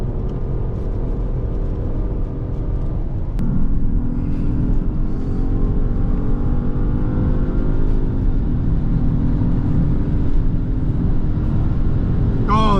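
Luxury three-row SUVs, a 2025 Lincoln Aviator, a Genesis GV80 3.5T and an Acura MDX Type S, accelerate in a drag race, a loud sustained engine rumble rising in pitch.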